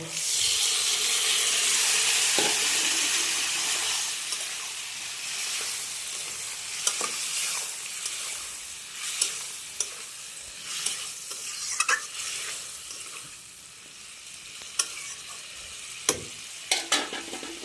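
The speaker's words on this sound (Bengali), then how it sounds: "এখন জিরের গুঁড়ো আর জিরে বাটা আর লঙ্কা বাটাটা দিয়ে দেব।" Ground cumin, cumin paste and chilli paste sizzle in a hot pan while being stirred, a loud steamy frying hiss at first that settles lower, broken by close scraping and clinking of the spoon.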